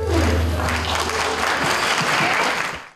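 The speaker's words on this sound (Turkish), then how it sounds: "Kaynana gelin atışması konulu skeç alkış topladı." An audience applauds a mother-in-law and bride comedy sketch at an event, dense loud clapping that holds steady and then cuts off abruptly at the end.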